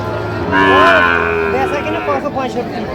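Young bull calves at a livestock market moo in short, overlapping calls, one drawn-out bellow followed by several brief lows against a noisy background.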